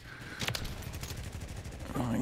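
A Kar98k bolt-action rifle fires once in a video game, a sharp broadband crack early on, followed by reverberant game noise with no other distinct shots.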